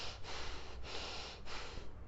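Shallow, quick chest breathing is demonstrated in three short, forceful snort-like breaths at a steady rhythm, close and alone with no talking.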